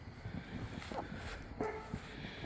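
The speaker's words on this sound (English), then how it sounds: "The neighbor's dog is barking." A neighbor's dog barks from a distance at night outdoors, a few faint separate yips over a low background rumble, with no speech.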